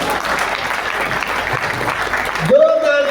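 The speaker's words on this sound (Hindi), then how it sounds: "जोरदार तालियां हो जाए कविता को" An audience at a Hindi poetry recital during a kavi sammelan applauds loudly with dense, steady clapping, which cuts off near the end as a voice takes over.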